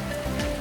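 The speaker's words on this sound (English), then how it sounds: "It's raining like crazy, and now I'm completely soaked." Heavy rain pours down in Belize in a steady broadband rush that fills the short moment without a break.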